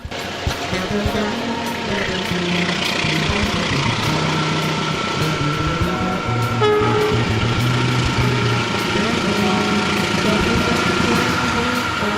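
Long-distance night train from Surabaya rolling into Bandung: a continuous heavy rail rumble with sustained horn-like tones, near and loud, with faint voices underneath.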